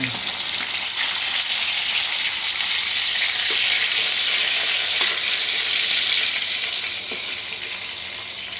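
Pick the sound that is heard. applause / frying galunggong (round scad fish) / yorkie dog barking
frying galunggong (round scad fish)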